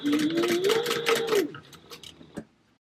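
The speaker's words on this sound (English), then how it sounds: "So I'm just going to use that as my guide as I sew them together" A sewing machine runs fast and steadily for about a second and a half while stitching bag fabric, then stops, followed by a few faint clicks and handling sounds. A voice speaks briefly over the stitching.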